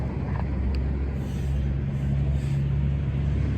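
A 1967 Pontiac Firebird convertible's engine runs at a steady, low idle close by, an even rumble throughout with no talking.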